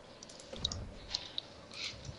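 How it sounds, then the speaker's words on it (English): Soft, scattered keyboard taps and clicks from people typing on computer keyboards during a Dota 2 session, faint and irregular in an otherwise quiet room. "That's the sound of absolute silence while people tappity-tap their keyboards."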